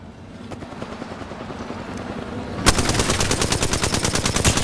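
Automatic gunfire in the Apex Legends video game, a faint rattling at first that bursts into a loud, rapid, sustained stream of shots partway through, with no talk.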